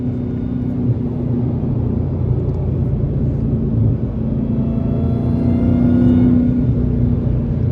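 Dodge Hellcat V8 with its hood removed, running with a deep steady rumble and a sustained tonal supercharger whine riding over it, loud and close for the whole stretch, no one talking.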